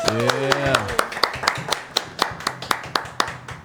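A small group at the Medium Rage podcast claps for a Bandung band, a fairly close, sparse run of distinct claps with uneven rhythm; a voice speaks over the first second before the claps take over.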